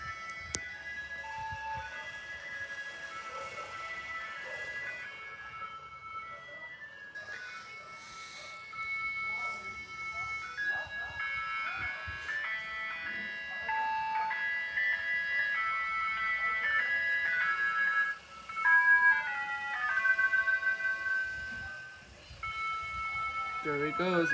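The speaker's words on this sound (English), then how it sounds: "The ice cream truck's right there." A Fresno, California ice cream truck plays its jingle, a string of bright bell-like melody notes drifting at moderate distance and growing louder toward the end, with street noise and voices around it.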